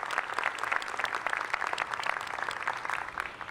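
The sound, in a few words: audience applause for the quartet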